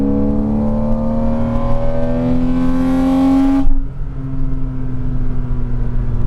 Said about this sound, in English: This car sounds absolutely brilliant, as you may be able to tell, but nevertheless, let's have another listen.